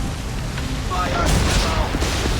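Cannons fire from a sailing ship in the video game Assassin's Creed III: two booming bursts a second apart, over continuous wind and ocean roar, with shouted crew voices nearby.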